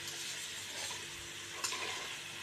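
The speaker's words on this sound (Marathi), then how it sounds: "पत्ताकोबी छान अशी तेलातच होऊ द्यायची" Cabbage sizzling steadily in hot oil in a pan, a soft continuous frying hiss with a faint stir or utensil tap near the middle, no voices.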